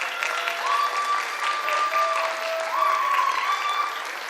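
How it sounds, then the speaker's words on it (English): Audience applause for parents at a high school senior awards ceremony, steady clapping from a crowd lasting throughout, with faint tonal sounds over it. "Give your parents a round of applause."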